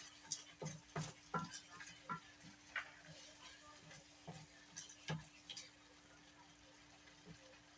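Southern fried corn cooking down in a pan, quiet stirring scrapes and soft ticking clicks coming in scattered bursts over a faint low sizzle, fairly close but low in level.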